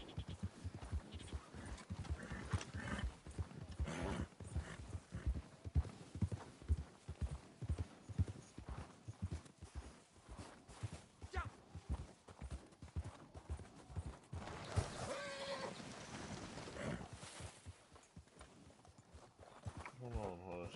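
Horse hooves clip-clop in a quick, steady rhythm in Red Dead Redemption 2, close and fairly loud, with voices talking over them before the hoofbeats fade near the end.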